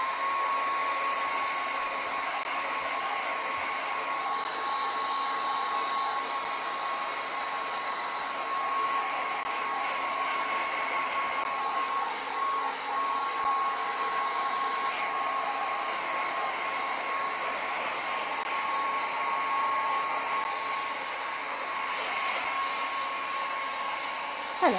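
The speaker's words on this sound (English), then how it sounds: "Right, just going to dry this again. So I'm afraid I will be noisy." A hair dryer blows on a painting in a steady, loud, unbroken whine that holds for the whole stretch without pause or talk.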